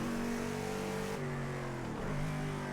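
A race car engine in the Project Cars 2 racing game revs hard and steadily, its pitch dipping as the driver shifts gears and then climbing again, with no talking over it.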